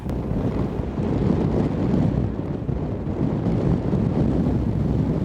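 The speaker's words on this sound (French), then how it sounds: "le vent se lève brutalement" Strong, steady wind rising suddenly, roaring and buffeting nearby while an ultralight aircraft is packed away, a dense continuous rush with no pauses.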